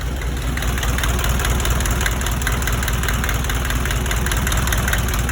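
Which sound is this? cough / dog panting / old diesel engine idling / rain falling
old diesel engine idling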